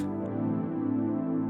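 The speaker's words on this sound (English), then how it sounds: "This is called Washington Street Credit Synth." Washington Street Credit Synth, a stock Logic pad, holds a sustained, warm, harmonically rich chord at steady volume with no other sounds.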